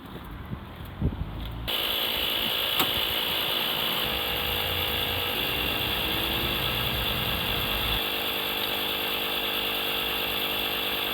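An inflator pumps up a van tyre, starting abruptly after a brief quiet moment and then running as a steady, loud mechanical whirr and drone that continues unbroken to the end.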